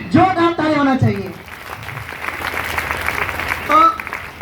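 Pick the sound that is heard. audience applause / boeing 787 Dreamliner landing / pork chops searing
audience applause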